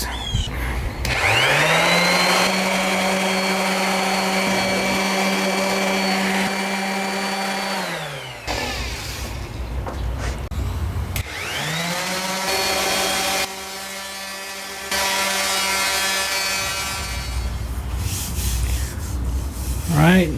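A power sander with a mesh sanding net disc running on a wooden sign, a loud whine that spins up, grinds steadily with rubbing friction, winds down, then starts again for a second long pass.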